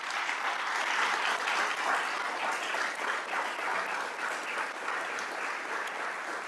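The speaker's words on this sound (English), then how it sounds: "Will you all join me in giving them a round of applause?" Steady, even applause from a crowd gathered at an outdoor gun violence awareness vigil, a continuous wash of many hands clapping at moderate volume with no talking over it.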